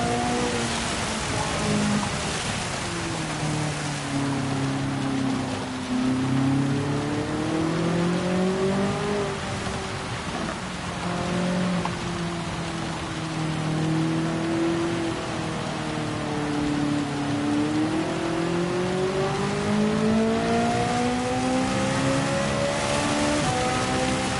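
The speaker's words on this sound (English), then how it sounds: "that looks like some bad rain" Steady hiss of heavy rain drumming over a car engine in the racing game Gran Turismo 7, the motor's tone rising and falling continuously beneath the downpour throughout.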